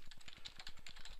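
Rapid typing on a computer keyboard, a steady run of close, crisp key clicks with no talking over it.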